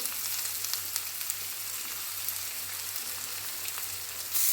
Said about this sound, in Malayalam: ഞാൻ ഇവിടെ രണ്ട് സവാള അരിഞ്ഞ് ഇട്ട് കൊടുക്കുന്നുണ്ട്